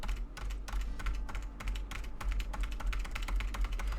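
Rapid, continuous typing on a computer keyboard, dense irregular clacks close to the mic over a steady low hum, with no voices.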